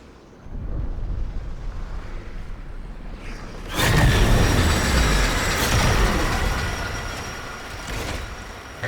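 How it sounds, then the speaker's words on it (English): A train pulls into a station in Warframe, starting as a low rumble that swells into a loud, close roar with metallic squeal and rattling, then settles toward a steadier hum. No one speaks. "The next train is arriving."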